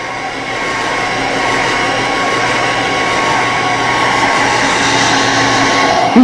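A hair dryer blows steadily on a chicken's wet feathers, a loud, close, continuous whooshing hum that holds level throughout with no talking.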